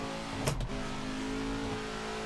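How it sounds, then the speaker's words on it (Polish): Scania R1000 truck engine drifting, a steady loud drone with a brief sharp burst early on, then a sustained engine tone holding through the rest. "Teraz driftujemy, teraz jest kontrolowany drift"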